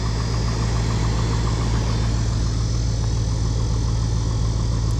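Steady car engine idling close by with a lower end knock, a continuous low rumble with a faint rhythmic ticking running through it, no voices.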